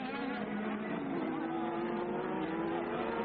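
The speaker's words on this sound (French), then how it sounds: "qui a pris le meilleur sur les Benetton en profitant sans doute, Patrick, de la puissance supérieure de son moteur turbo au démarrage" Formula 1 turbo cars at the 1988 French Grand Prix make a continuous buzzing engine drone that rises slowly in pitch, heard at a distance under a broadcast commentator's talk.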